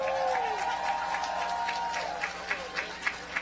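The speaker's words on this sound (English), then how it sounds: "If we could just give them a round of applause." A crowd at an outdoor unity march applauds educators, with a wash of clapping and cheering voices that thins into a few scattered, distinct claps toward the end.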